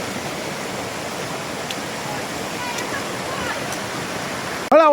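Waterfall rushing over the rocks of a mountain stream, a steady loud broadband roar that fills the scene and surges louder at the very end.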